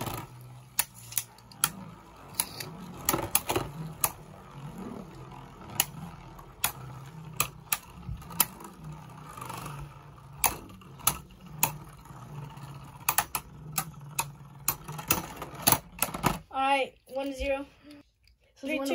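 Draciel and Dranzer Beyblades spin in attack mode, giving a steady run of sharp plastic clicks and clashes over a low whir, ending in a burst of fast rattling.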